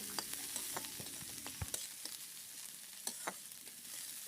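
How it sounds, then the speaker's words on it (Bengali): Carrots frying in a pan for wedding-style fried rice, a faint, low sizzle with sporadic spoon clicks and scrapes as they are stirred, no voices. "এই যে দেখো গাজরটা ভালোভাবে ভাজবো।"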